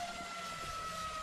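An ambulance siren in the police game LSPDFR wails as a steady, fairly faint tone, briefly heard from some distance with a low engine-like rumble beneath and no speech.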